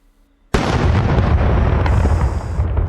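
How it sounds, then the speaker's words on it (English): Firework cake explosion in the game Fireworks Mania bursts in suddenly after a moment of quiet, then keeps up a loud, dense rumble of booms and crackling pops, with a bright hiss near the end. "we're gonna start with our explosion"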